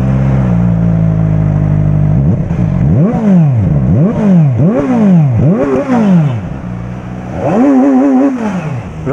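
A race-ready sports motorcycle engine idles loudly, then is revved in a series of sharp rising-and-falling bursts, about five in a row followed by one more after a pause, close and dominant with no talking.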